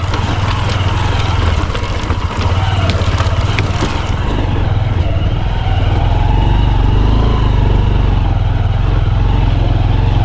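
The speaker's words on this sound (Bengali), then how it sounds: "এরকম পুলের উপর দিয়ে কে কে বাইক চালিয়েছে" A motorcycle ridden across a narrow bridge over a river, its engine droning steadily and close for the whole stretch, with a rougher, louder patch early on before settling into an even hum.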